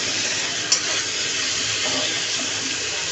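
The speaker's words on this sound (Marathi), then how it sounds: "मी मीडियम गॅसवरती बटाटा शिजवत आहे" Potatoes stir-fry in a pan over a medium gas flame, producing a loud, even hiss with a brief click near the start and light stirring scrapes beneath, without any talking.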